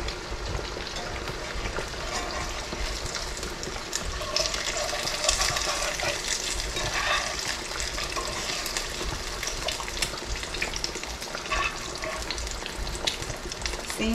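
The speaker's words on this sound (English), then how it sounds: "It's time to flip these eggs." Eggs frying in a pan give off a steady, close sizzle for the whole stretch, with brief scraping and stirring noises as a spatula goes under them and flips them over.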